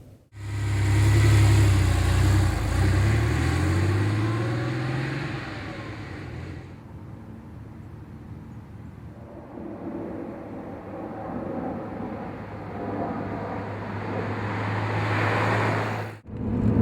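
A 964-generation Porsche 911 Turbo S2 drives under way, its engine droning loudly at first with a low steady tone, then easing into a quieter cruising rumble with road noise before picking up again near the end.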